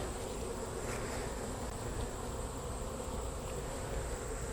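Honey bees buzzing around hive frames, a dense continuous droning hum of many insects close up, steady throughout with no voices.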